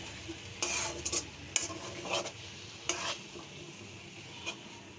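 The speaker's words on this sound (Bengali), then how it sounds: "তো হালকা একটু নেড়ে চেড়ে দিয়ে তরকারি কিন্তু হয়ে গেছে" Dried fish and vine curry being stirred in a pan, giving a few spaced scrapes and clinks of a utensil against the metal over a faint, low sizzle in a quiet kitchen.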